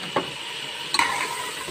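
Chicken frying in hot oil for a black pepper karahi, giving a steady sizzle with a couple of brief stirring clatters and scrapes close by.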